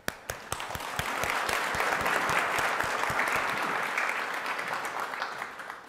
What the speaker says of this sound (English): Don, would you please stand so people could give you an applaud?